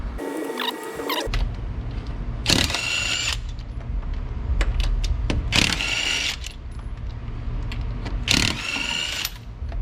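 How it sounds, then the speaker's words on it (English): A car jack raises an American car for a wheel swap to JDM TE37 rims, a steady close mechanical whir with repeated louder ratcheting bursts and clanks, no talk. "So let's jack it up."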